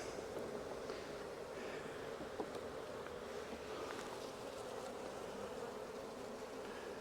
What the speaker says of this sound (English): I'm going to go ahead and smoke these bees just a hair to calm them down.